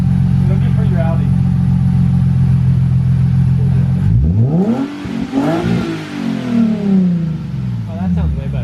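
Nissan NISMO 370Z with a new exhaust, first a loud steady idle rumble, then sharp revs that climb and fall twice, close and loud with voices talking over it.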